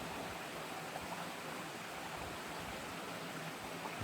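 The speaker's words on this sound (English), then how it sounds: "little unnamed creeks" A small, clear, unnamed mountain creek on a hot July day flows in a steady, close, rushing babble with no voices over it.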